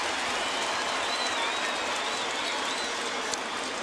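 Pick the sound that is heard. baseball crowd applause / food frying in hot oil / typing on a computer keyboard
baseball crowd applause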